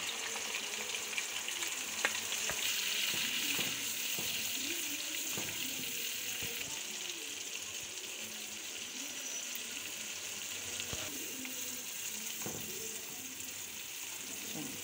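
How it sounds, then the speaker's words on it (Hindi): Onion and cashew gravy mixture with chicken sizzles steadily in a pan, with intermittent scraping clicks of a spoon stirring, fairly quiet and continuous throughout. "इसे अच्छे से हम मिक्सचर को भून लेंगे 1 से 2 मिनट के लिए"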